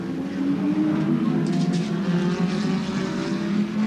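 A 1986 Volvo touring car and its rivals race at Symmons Plains in round two of the Australian Touring Car Championship, engines droning loud and sustained with a continuous high-revving whine.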